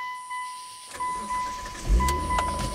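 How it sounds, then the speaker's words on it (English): A Mitsubishi engine with a water-soaked distributor, treated with WD-40, cranks and then fires up close by, a brief low rumble catching near the end over a steady high whine. "the car fired right up, even after the distributor soaked in water"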